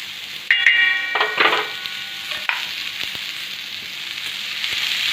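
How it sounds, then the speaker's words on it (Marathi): Drumsticks sliced lengthwise fry on a tava in a loud, close, continuous sizzle, with a few clinks of a stirring utensil near the start. "तव्यामध्ये टाकून आपल्याला असा लाल होईपर्यंत चांगला खरपून होईपर्यंत तळून घ्यायचा आहे"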